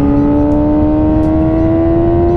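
A 2006 Yamaha R6 sport bike engine runs loud and steady at high revs, its pitch creeping upward over a couple of seconds.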